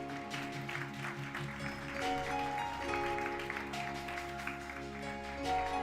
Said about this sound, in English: Let's clap for them as they go to your seats.